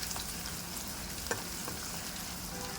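Onions frying in a pan with salt, browning under a continuous close sizzle broken by occasional scraping strokes of stirring, with no voices.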